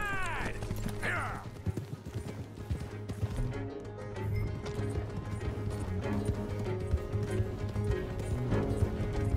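Hooves clip-clop in a steady galloping rhythm from several horses in Red Dead Redemption 2, moderately loud over a dense layer of game ambience and music, with a brief whinny near the start.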